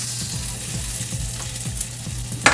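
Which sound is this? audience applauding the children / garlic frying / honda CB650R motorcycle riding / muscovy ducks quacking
garlic frying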